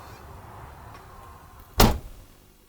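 The door of a Prevost bus conversion coach shuts with a single sharp, close thud, following a quiet background of road hum from the interstate.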